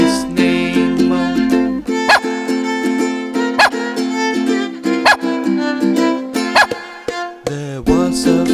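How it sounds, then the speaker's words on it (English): Cartoon-style dog barks and yips punctuate a children's nursery rhyme song about a farmer's dog, several short sharp barks spaced through a bright, steady musical backing. "There was a farmer who had a dog, and Bingo was his name."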